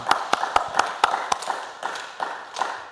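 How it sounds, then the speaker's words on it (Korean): Church congregation at a Korean early-morning worship service claps, a run of sharp, close hand claps that starts in a steady rhythm and then fades into softer, looser claps. "박수."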